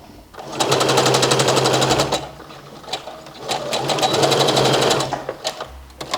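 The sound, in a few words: sewing machine stitching side seams of a shirred top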